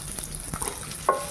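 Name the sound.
onion frying in a pan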